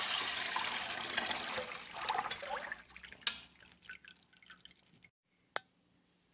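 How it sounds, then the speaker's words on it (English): Green mung bean mixture for a layer cake drains through a strainer, a steady trickle and patter of liquid close by that thins out into a few isolated drips before falling quiet. "And now we're draining the green one."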